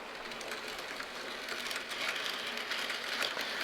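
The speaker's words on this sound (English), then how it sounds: "It's really a smooth running train set" Quiet, steady whirring and light clatter of a Bachmann N scale Pennsylvania Broadway Limited model train running along its track, with no talking.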